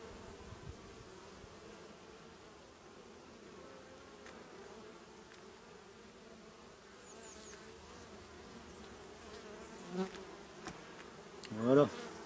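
Honeybees from a hive colony drone in a soft, steady buzz throughout, with a few louder bees passing close near the end; no one speaks.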